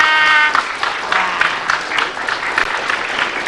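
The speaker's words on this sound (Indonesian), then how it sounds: "sekali lagi dong tepuk tangan buat Mbak Sinta" A studio audience on an Indonesian health talk show breaks into loud, sustained applause, with a voice speaking over it briefly at the start before the clapping carries on alone.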